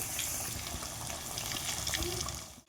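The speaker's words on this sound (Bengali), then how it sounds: "আমি অল্প অল্প করে ভেজে নেবো" Jackfruit candies fry in a pan over low to medium heat, a steady bubbling sizzle with soft crackle that runs throughout at moderate volume.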